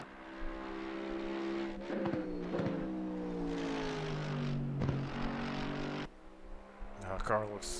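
A Mercedes-AMG GT3 Evo race car lapping Zandvoort in Assetto Corsa Competizione, its engine note gliding up and down through gear changes and throttle lifts, with a few sharp shifts and blips, as someone talks over it.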